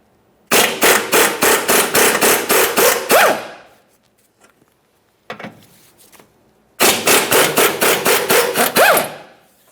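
Rapid ratcheting bursts from a 14 mm socket loosening subframe bolts on a 2014-2019 Toyota Corolla, two loud close runs of even clicks separated by a quieter pause with faint shuffling.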